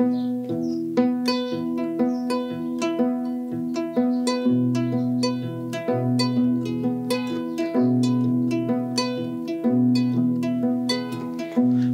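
Kora played solo in a masterclass, plucked strings weaving dense layered repeating patterns with a steady bass line, close and continuous throughout, no voices.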